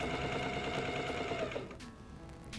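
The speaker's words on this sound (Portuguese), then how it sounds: "Com o botão da largura em 0, distancial em 4 e tensor em 2, você pode alinhavar usando a máquina." A Toyota 9800 sewing machine basts with stitch width at zero and a long stitch, its needle running as a steady rapid mechanical whir that then drops to a quieter idle near the end.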